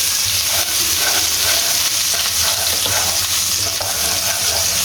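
Garlic paste frying in a few spoonfuls of cooking oil in a wok, a steady close sizzle with faint stirring scrapes, running continuously without any talk.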